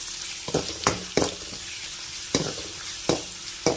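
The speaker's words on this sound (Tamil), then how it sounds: "வெங்காயத்தை நல்லா வதக்கிக்கலாம்" Onions with curry leaves and a little salt sautéing in a pan, stirred in sharp scraping bursts over a steady low sizzle, close and without talk.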